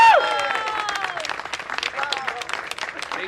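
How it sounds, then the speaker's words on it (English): Wedding guests applaud during a ring ceremony, a steady wash of clapping with excited voices and cheers riding over it throughout. "Louder applause."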